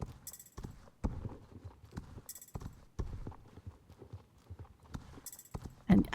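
A Friesian horse's hooves clop in a slow, uneven walking rhythm in Star Stable Online, fairly close, with short gaps and a few brief crackly bursts between steps.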